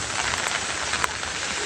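Heavy rain with wind at a cattle farm, a dense, steady roar of downpour that holds close and even from start to finish, with no voices.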